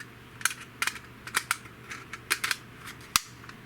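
Ten-round magazine loaded with 10 rounds being inserted into a Ruger Gen II Ranch Rifle in 6.5 Grendel, giving a string of sharp, close metallic clicks and snaps, moderately quiet, with one crisper clack near the end.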